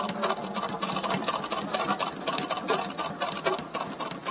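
Zigzag pico sewing machine stitching a buttonhole into fabric, a close, continuous fast mechanical whirr and rattle with no talking.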